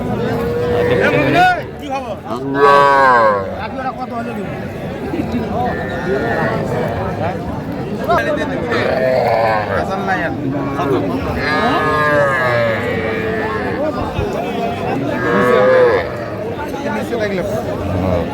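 Young bulls and calves low several times amid a busy crowd at a cattle market, with people talking loudly nearby throughout.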